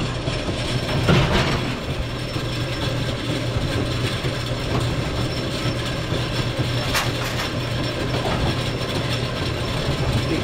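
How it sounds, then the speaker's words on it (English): An AMF 82-70 bowling pinsetter cycles to first ball, giving a continuous mechanical rumble and clatter with occasional clicks and a sharper clank, steady and fairly loud with no talk. "Cycle the machine to first ball, we'll see if"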